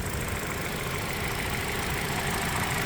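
A well-maintained car engine idles close by as a steady, even rumbling hum with no change in pitch, and no voices are heard.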